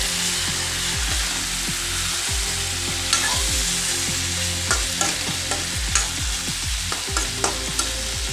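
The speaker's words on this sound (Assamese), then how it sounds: "মূলা, গাজৰ আৰু মাংসবিলাক ভাজি ল'ম" Radish, carrot and chicken fry in a pan in an Assamese chicken dish, a constant sizzle broken by a steady run of scraping stirs from the spatula, close and loud.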